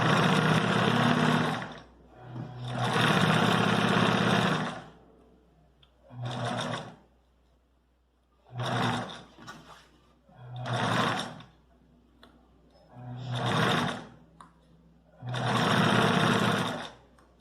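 A sewing machine stitches the crotch seam of trousers or shorts in about seven loud, close whirring bursts of one to two seconds, each separated by a short quiet pause.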